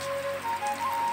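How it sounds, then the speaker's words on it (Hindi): Heavy rain pouring down during a storm as a cyclone makes landfall: a steady, dense close-up hiss that fills the short moment, with a faint high whine running through it. "एत जोर वर्षा हो देखुच"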